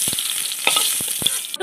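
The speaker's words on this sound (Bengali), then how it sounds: "পটলগুলো লাল করে ভাজা হয়ে গেছে" Pointed gourd frying in hot oil gives a continuous close sizzle, broken by a few short clinks of a utensil against the pan. No voices are heard.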